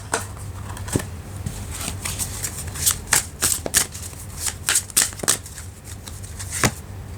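Oracle cards being shuffled by hand, with a run of crisp riffles and flicks in irregular bursts, close and fairly clear over a low steady background hum, with no talking.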